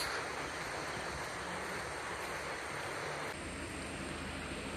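Pinsal Falls in Ilocos Sur sends out a steady, even rushing roar of falling water, fairly faint and continuous throughout, with no voices.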